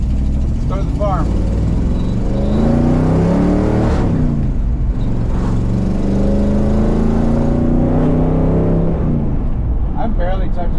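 A car engine on the drive to a farm, revving and climbing in pitch in a couple of long pulls, loud and close, with someone talking over it.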